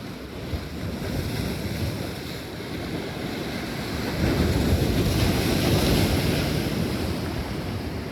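A rough, angry sea crashes against the shore in a continuous loud wash, swelling louder in the second half, with wind rumbling across the microphone.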